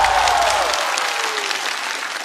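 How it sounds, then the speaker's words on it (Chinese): A stand-up comedy audience applauds comedian Sun Xi with a sustained burst of dense clapping that stays loud, then eases off slightly toward the end. "再次掌声送给孙熙。"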